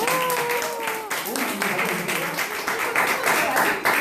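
Applause at a one-day writing workshop: a short burst of clapping from a small group, fairly close, mixed with people talking over it throughout.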